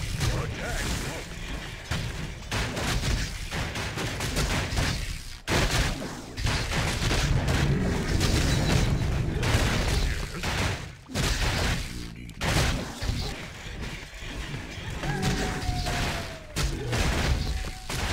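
A Warcraft III Reforged battle plays out in a long, loud barrage of rapid clashing hits, booms and whooshes, with unit voice lines and brief calls breaking through the constant din.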